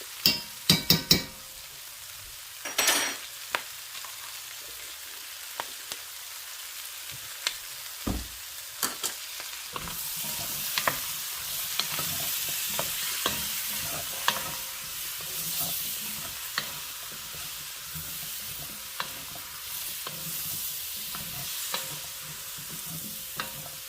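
About four cloves' worth of garlic sizzles and is stirred in a pan for beef bourguignon. A few sharp clinks open the clip, then a steady close frying hiss runs throughout, with frequent spoon scrapes and taps.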